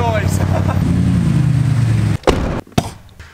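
Widebody Toyota GT86 fitted with a rocket bunny replica kit sits idling with a low, fairly quiet rumble under a person talking, ending in a few sharp clunks.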